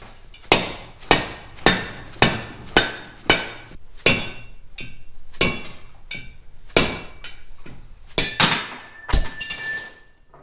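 Hammer blows ring out on a steel Dana 60 steering knuckle in a Super Duty front axle, about a dozen loud, sharp metallic strikes in a steady run, then a few slower hits, ending in a brief burst of clatter.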